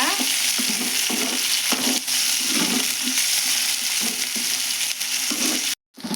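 Onion pieces frying in a pan make a loud, steady sizzle close by, with rhythmic stirring scrapes throughout and a brief dropout near the end.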